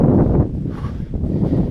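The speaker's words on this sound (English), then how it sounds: "Very windy" Strong wind buffeting a microphone outdoors on a rainy Welsh hillside walk, heavy low rumbling gusts that surge and ease across a short stretch, with no voices.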